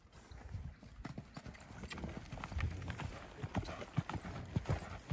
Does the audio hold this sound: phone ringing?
no